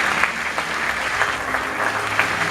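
An audience applauds at the L'Oréal-UNESCO For Women in Science Middle East Fellowship award ceremony in Dubai, producing dense, steady clapping from a crowd throughout.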